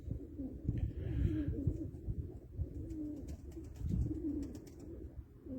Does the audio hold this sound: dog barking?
no